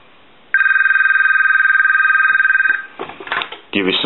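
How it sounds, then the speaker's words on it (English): A Thomas Wood wall telephone's bell rings loudly in one sustained rapid trill for about two seconds, then stops, followed by brief voices speaking nearby. "I want to go ahead and ring the telephone."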